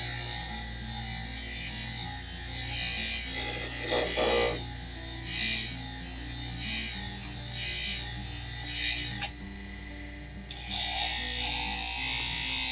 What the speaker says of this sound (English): You can buff it on a cheaper solution. It's the same idea like I have right here. So it's just a simple grinder.